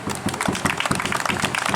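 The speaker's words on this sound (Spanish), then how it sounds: "pedimos un fuerte aplauso" Crowd applause for Bolivia's ambassador at an outdoor Inti Raymi Andean new year bonfire gathering in Parque Avellaneda, a close, lively burst of many hands clapping with distinct rhythmic slaps, loud and continuous.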